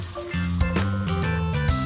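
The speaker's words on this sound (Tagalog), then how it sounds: "Lagyan po ng kunting tubig po mga idol." Water is poured into a hot cooking pan while making sautéed vegetables, giving a continuous close gurgling fill with light sizzle that starts about a third of the way in and holds to the end.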